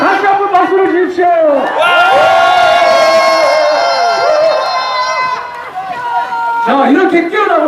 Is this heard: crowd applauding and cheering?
yes